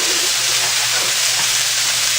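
Loud, steady sizzling of onions frying in a hot pot for venison chili, a continuous crackling hiss with no talking.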